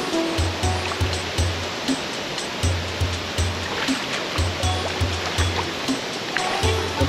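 Dibulo Falls, a tall waterfall in Dinapigue, Isabela, pours in a steady broadband roar that fills the scene and stays loud and continuous, with faint low thumps underneath and no talking.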